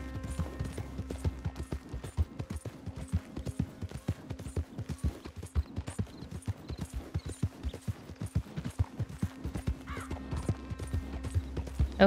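Horse hooves clip-clopping at a steady walking rhythm in the Red Dead Redemption 2 video game, close and continuous, with a faint whinny and soft game ambience underneath.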